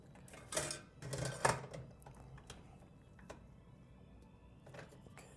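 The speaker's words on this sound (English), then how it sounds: "let's get these screws back in" Screws being driven back into the case of a 2019 Intel Apple Mac Pro during an upgrade: a few quiet clustered clicks and scraping bursts early on, then sparse faint ticks in a hushed room.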